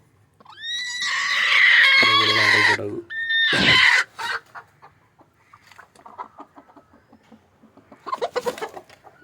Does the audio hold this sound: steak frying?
no